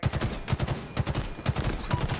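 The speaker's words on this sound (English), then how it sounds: "They're all shooting me" Rapid automatic gunfire in Halo Infinite, bursts of close, punchy shots in a quick rhythmic pattern repeating across the short stretch.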